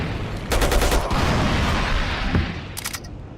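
Uzi submachine gun fire in the game Battlefield Yugoslavia: a loud, rapid burst lasting about half a second, then a shorter distant-sounding burst amid a rumbling battlefield din.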